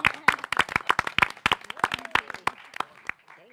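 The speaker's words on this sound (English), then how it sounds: "I want to clap for that." Sparse clapping from a small audience at a school board meeting, individual sharp hand claps in an uneven patter that thins out and fades toward the end.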